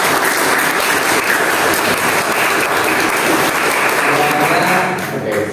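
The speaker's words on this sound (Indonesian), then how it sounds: "tepuk tangan dulu" A classroom group of students applauds loudly and continuously after presenting their tower projects, a dense wash of clapping close to the mic that thins slightly at the end.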